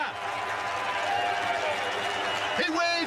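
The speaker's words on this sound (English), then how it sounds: "What a cheer as he plucks the ball out" A golf crowd at The Open roars with cheers and applause after Rory McIlroy holes an eagle putt, a dense, steady wash of noise with a commentator talking over it and a sharper swell near the end.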